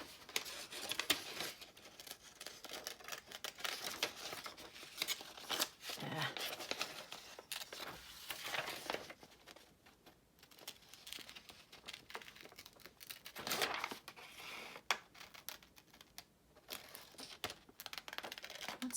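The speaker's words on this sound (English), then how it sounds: "I need my smaller scissors." Small scissors snip around a paper T-Rex cutout during a craft session, giving quiet, irregular cuts and paper rustles with short pauses, close and faint throughout.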